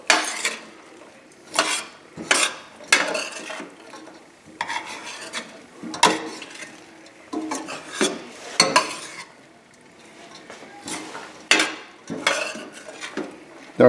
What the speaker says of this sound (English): I'll stir this up.